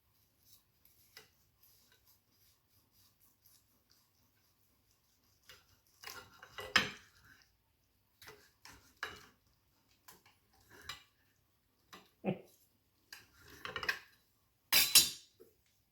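A knife and fork cut into a reverse-seared medium-rare steak on a plate, making quiet scattered scrapes and clinks of cutlery on china with pauses between, louder taps toward the end.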